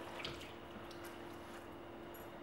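Water trickles and splashes softly as face gel from an anti-ageing skin care treatment is rinsed away, a faint continuous running-water wash with no voices.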